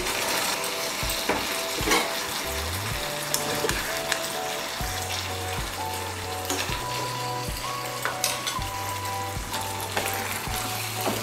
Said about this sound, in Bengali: ঘি আর গরম মশলার গুঁড়োটা ভালো করে মিশিয়ে নেব।